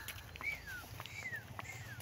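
Birds hidden in trees at La Mesa Eco Park, Quezon City, give three clear, descending whistles spaced about half a second apart. The calls sound faint and distant over a low outdoor rumble with soft background noise.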